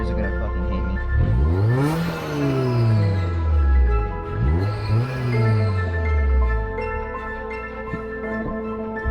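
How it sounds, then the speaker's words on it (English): A supercharged Honda Fit GD3 engine blips through two loud revs, each rising sharply then falling back, with a whining supercharger overtone and a steady idle in between, close by. "if I give it a rev, my neighbors are gonna fucking hate me"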